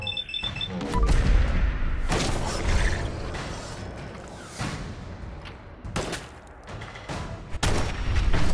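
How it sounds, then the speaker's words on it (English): Fireworks in Fallout 4, a series of booming bursts and crackling explosions spread across several seconds, some sharp and close, others duller and distant, with mechanical creaks in between. "Oh, fireworks."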